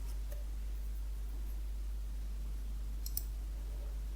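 A computer mouse clicking: a few faint, sharp clicks, one near the start and a pair near the end, alone over a quiet background hum.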